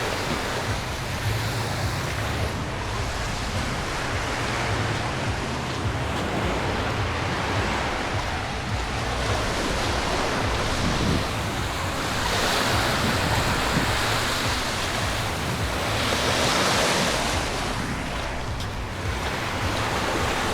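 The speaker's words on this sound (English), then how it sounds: "Just walking along this beach." Steady surf breaking on a beach in Negril, Jamaica, with a continuous wash of waves that swells and recedes, some wind noise on the microphone, and no talking.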